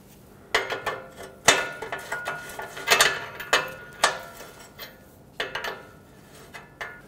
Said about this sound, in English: I'm gonna use a 22 millimeter wrench to finish getting it off of there.